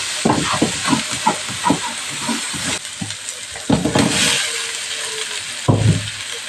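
Water poured into a hot pan of chicken and eggs cooking with Balinese spice paste bursts into loud hissing, steamy sizzling that rises and falls in waves, alongside clattering stirring and a brief bubbling noise near the end.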